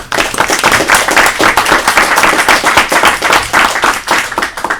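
Sustained, dense applause from an audience at a university council meeting, loud and steady throughout with no talk over it.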